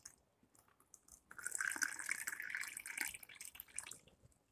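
Hot water poured into a cup over oolong milk tea powder makes a soft, close splashing trickle that starts about a second in, runs for roughly three seconds and then tapers off.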